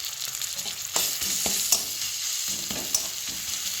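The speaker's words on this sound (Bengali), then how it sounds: "নেড়ে পেঁয়াজগুলি লাল লাল করে ভেজে নেব" Onions and garlic paste fry in a pan, giving a continuous sizzle broken by several sharp scraping stirs of a spatula.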